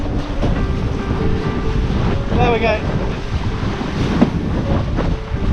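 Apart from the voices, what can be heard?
wind and ocean waves while windsurfing across the English Channel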